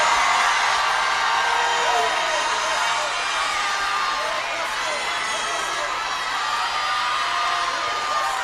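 A large crowd of young people at a church service cheers and screams continuously, a loud, dense wall of whoops and yells that holds steady throughout.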